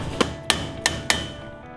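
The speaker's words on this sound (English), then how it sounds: "now we're gonna use the hammer, this rubber hammer" Four sharp strikes of a rubber hammer on a tough film prop T-34-85 tank barrel, close and distinct, spaced irregularly with short ringing decays between them.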